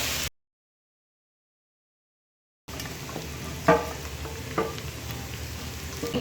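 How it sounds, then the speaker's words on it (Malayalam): Onions and mixed vegetables sautéing in a pan for samosa filling, a steady close sizzle with a few stirring scrapes, cut out by a brief gap of silence near the start before the frying resumes. "നമുക്ക് നന്നായിട്ടൊന്ന് വഴറ്റി എടുക്കാം"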